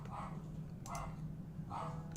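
A dog barks at someone at the door, three separate barks spaced evenly and heard faintly from a distance over a low background hum.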